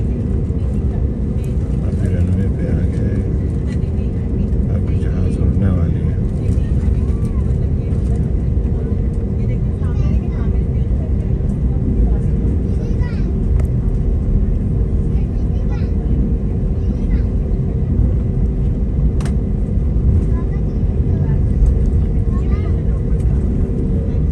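Cabin noise aboard an airliner in flight from Sharjah to Islamabad, a loud, unbroken low engine roar and rushing air that holds steady throughout, with faint bits of activity above it.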